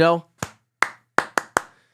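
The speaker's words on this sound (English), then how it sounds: "I had to do the good old classic t-shirt clap" A voice is followed by a rhythmic pattern of five sharp, close hand claps with brief silences between them, a call-and-response classroom clap done to quiet a group of kids.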